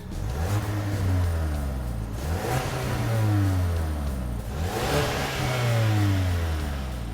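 A 2022 Ford Maverick XLT's EcoBoost engine runs and revs repeatedly, rising and falling in pitch several times, steady and close with no voices.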